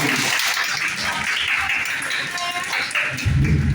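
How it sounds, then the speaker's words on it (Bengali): A church congregation applauds at a worship service, a dense wash of clapping from many hands that holds steady for a few seconds in a reverberant room. "আমরা একটা হাততালি দিতে পারি"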